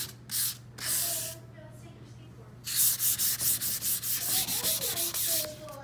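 Sandpaper rubbing over painted wood to distress the finish, starting with a few separate strokes and then a quick run of repeated back-and-forth passes, close and clear.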